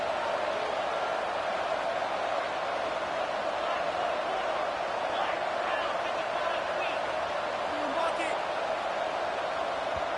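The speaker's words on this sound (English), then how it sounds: "with this place rocking, the crowd forces a false start" A packed football stadium roars continuously in a dense, loud wash of crowd noise, with faint whistles and shouts within the din.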